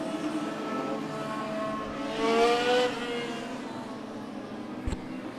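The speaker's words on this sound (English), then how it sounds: "And we got the legend cars ready to go." Legend cars lined up at Stockton 99 Speedway before the start of a race, engines droning at a distance with a brief rise as one revs, then a sharp knock near the end.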